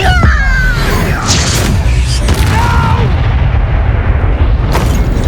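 A Repulsor spell blast in the video game Hogwarts Legacy, heavy booming impacts with whooshing magical bursts and crumbling debris in a loud, dense battle mix.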